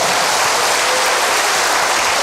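A church congregation applauds in praise during a worship service, producing a thick, loud, unbroken roar of clapping from many hands that holds steady throughout.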